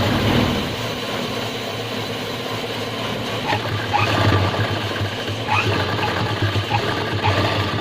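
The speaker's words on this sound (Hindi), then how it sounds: "यहाँ पे भी हमने पक्की सिलाई करनी है मशीन को आगे पीछे करके इस तरीके से।" A sewing machine runs a straight seam on a pants wallet pocket, backstitching back and forth to lock the stitches; a steady mechanical whirr and rattle continues throughout, close and fairly loud, with brief clicks and shifts in speed.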